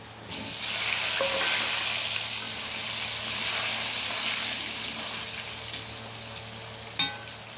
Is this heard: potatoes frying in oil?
yes